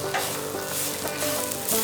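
Shallots, curry leaves and fenugreek seeds fry in hot oil with steady stirring for shrimp theeyal, a dense close-up sizzle with quick scraping strokes throughout.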